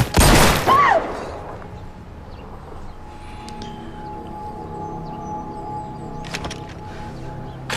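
A TV drama gunshot: one loud, sharp bang at the very start, followed by near quiet with a faint background hum.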